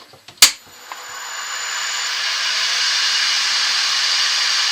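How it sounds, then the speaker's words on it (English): A heat gun switches on with a couple of clicks and then blows a steady rising hiss over a turned wooden bowl to dry the sealer in a cold workshop, close and continuous. "giving it a little blast with the heat gun"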